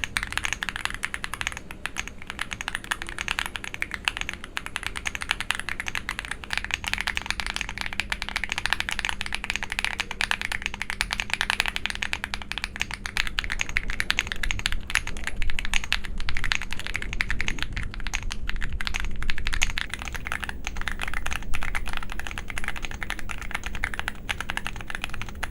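Steady, dense typing on a budget 65% aluminum keyboard with plate-mounted stabilizers and heavy foam inside, a continuous close run of keystrokes with even rhythm and no talking.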